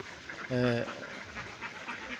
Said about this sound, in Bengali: দেখেন হাঁসগুলো আস্তে আস্তে নামতেছে